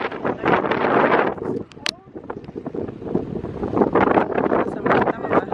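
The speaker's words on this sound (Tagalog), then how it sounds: "Mahangin. Malamig yung hangin." Strong wind buffets the microphone in loud gusts, with faint voices in the background.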